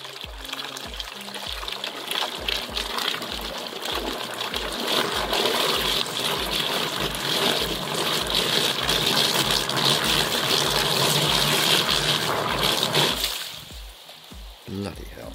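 Flipsky 65211 e-foil motor running on its first test in water, a loud, steady churning and splashing rush that holds for about thirteen seconds under a regular low pulsing beat, then cuts out abruptly.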